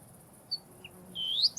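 Australian bristlebird, a native songbird, giving a few thin high chirps that end in a rising whistled note, fairly clear over quiet background.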